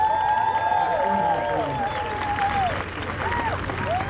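Audience applause rising in a packed hall after a speech by Kenya's President William Ruto on clean energy, a steady dense wash of clapping and crowd noise that holds throughout, with faint background voices.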